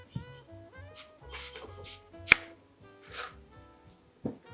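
A knife cuts a bad piece off a vegetable on a cutting board: a few sharp, separate chops spaced seconds apart, with one crisp, strong strike in the middle, close and fairly quiet.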